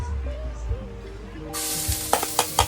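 Garlic frying in a pan, with a loud broadband sizzle that bursts in about halfway through and continues alongside clinks and crackles, after a quieter stretch of low kitchen hum.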